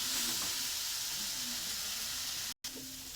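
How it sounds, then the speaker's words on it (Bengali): Fish curry spices sautéed and stirred in a pan, a loud continuous sizzling hiss with faint scraping, broken by a very short dropout near the end. "দিয়ে ভালো করে নেড়ে চেড়ে ভালো করে কষাবো"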